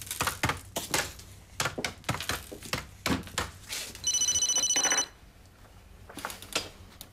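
A mobile phone rings in one steady electronic burst lasting about a second, surrounded by scattered clattering and knocking sounds.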